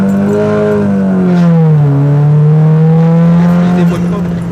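A Cupra with a Stage 2 tune and a twin-pipe exhaust and rear diffuser pulls hard from inside the cabin, its loud engine note climbing and dipping through a gear change, with people talking over it.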